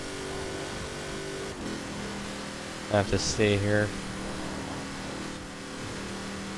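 An Apollo car with a V8 engine accelerating during a drag race in the Forza Horizon 4 video game: a steady, sustained engine drone runs throughout at moderate level while someone speaks briefly over it.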